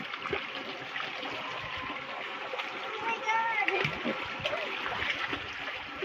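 Children splash and play in water, with a steady wash of water sound and voices talking and calling throughout.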